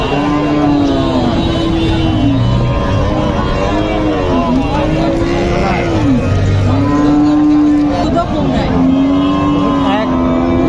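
Dairy cows at a cattle market give long, loud, repeated moos, several calls following one another up close over steady crowd noise and murmuring voices.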